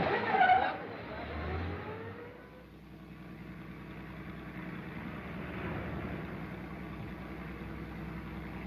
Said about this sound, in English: Follow that car.